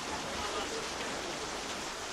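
Rain on a Wednesday in July, a steady dense hiss of falling water filling the short stretch at a low, even level.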